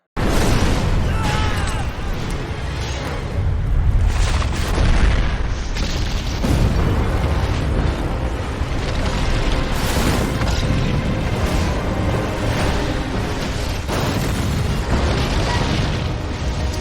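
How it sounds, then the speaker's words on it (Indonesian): A burning gasoline tanker truck explodes in a film scene, with a dense, loud rumbling blast that rolls on continuously in booming waves and roaring fire noise and dramatic soundtrack layered over it. "Di situ Luen melihat ada mobil truk bermuatan bensin yang juga ikut terbakar, kemudian meledak."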